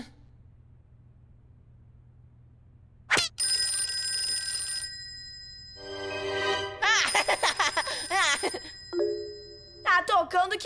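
A wall rings with a telephone-like tone in repeated bursts against a quiet background, with a brief voice and shifting chimes between rings, in a children's cartoon.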